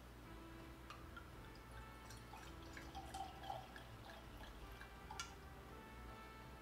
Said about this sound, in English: Pour myself a glass.